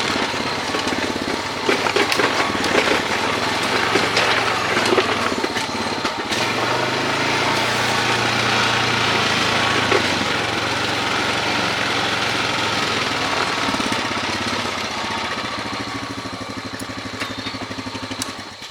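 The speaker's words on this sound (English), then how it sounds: "give it a little tug with the excavator, and now we should be able to get it out" A heavy excavator drones steadily while tugging a stuck tractor free at a bridge-building site, its engine loud and continuous throughout with a low rumble and no talk.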